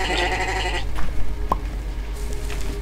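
A sheep bleating in the Minecraft clone MineClone2, one drawn-out bleat at the start followed by softer game sounds and a faint second bleat, moderately close.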